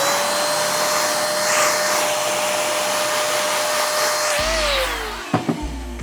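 A hair-dryer-style blower roars steadily while dusting cut hair off a barber's client after a low taper Edgar cut, then shuts off and winds down near the end with a couple of small knocks.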